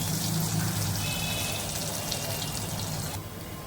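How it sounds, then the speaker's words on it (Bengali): Food frying in a pan without salt or turmeric gives a loud, continuous close sizzle with a dense hiss that holds steady throughout, easing slightly near the end. "লবণ হলুদ ছাড়াই ভেজে নেব"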